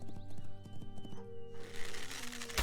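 Horse neighing and whinnying with clip-clop hooves in a goblin-hunting session of the video game Legends of Aria, tonal calls up front giving way to broadband rustling and game noise.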